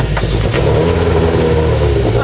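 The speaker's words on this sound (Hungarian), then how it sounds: "Peugeot 207 Super 2000-esre hallgassuk meg az autót." A loud Peugeot 207 Super 2000 rally car engine drones steadily at high revs, close by, with a constant roar throughout, at the Eger Rally.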